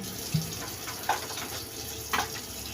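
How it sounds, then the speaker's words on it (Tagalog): Water pours steadily into a pot of pork adobo, a continuous hiss with a few splashy pops and clinks, close and fairly loud, no voices. "ilalagyan natin yan ng tubig. Kunting tubig para pakuluin."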